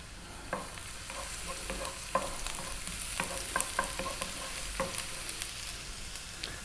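Chopped garlic and ginger frying in sunflower oil, with a steady close sizzle and a scattering of sharp spoon taps and scrapes against the pan.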